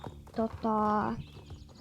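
In the Star Stable online horse-riding game, a horse's hooves clip-clop under a loud, drawn-out tonal whinny. The sound is close, set against a soft ambient game background.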